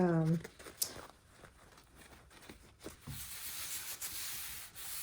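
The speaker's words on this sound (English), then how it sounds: "I'm going to do some sanding with a 120 grit." Steady scratchy rubbing of 120-grit sandpaper over oak by hand, close and fairly quiet, in uneven back-and-forth strokes with a few soft knocks.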